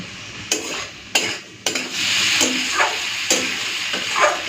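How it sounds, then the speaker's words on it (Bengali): Vegetables sizzle and fry in a pan for a hilsa fish head chorchori, with steady broadband hiss broken by several sharp stirring scrapes and clanks of a utensil against the pan, close and fairly loud. "সবজিটাকে ভালো করে আগে ভেজে নিই"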